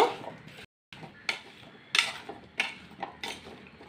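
Cut potato and papaya are mixed with salt and turmeric in a bowl, bringing irregular close clinks and scrapes of utensil on dish with a brief silent gap.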